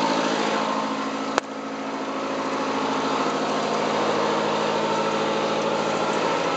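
Inboard/outboard boat engine idling steadily to warm up, a loud, continuous low rumble throughout with one sharp click partway through.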